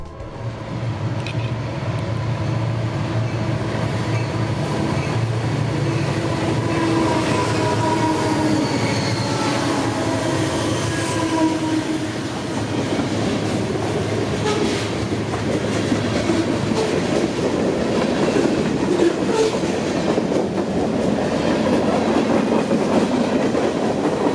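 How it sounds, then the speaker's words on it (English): A Reading & Northern freight train rolls past nearby, a steady rumble with wheels clacking and occasional metallic squeals, continuous and loud throughout. "just in time to see the train rolling in"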